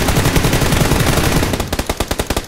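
Rapid automatic gunfire from the PUBG battle royale video game, a dense sustained burst that breaks into distinct separate shots toward the end, loud and close with no talk.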